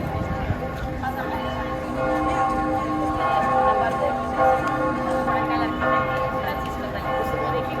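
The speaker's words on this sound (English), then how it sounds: "How cool is that to be walking into the front of the Duomo at 12 noon exactly, as the bells are tolling." Church bells at the Florence Duomo tolling at noon, ringing as a layered metallic wash heard from the square amid crowd noise.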